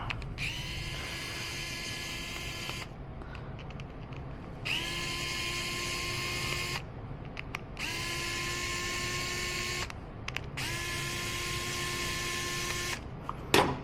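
An air tool spins loose the four screws on a motorcycle carburetor float bowl during race prep, giving four separate whirring bursts of about two seconds each with short gaps between them, close and loud over a steady background hum.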